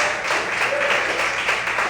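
A church congregation claps in praise during a sermon, a thick continuous wash of hands filling the room, with some voices mixed in.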